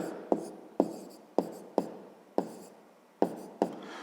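A pen writes on paper while solving a fifth-grade maths exercise, giving soft scratchy strokes with sharp taps at the start of each stroke, about seven in steady succession, close and quiet.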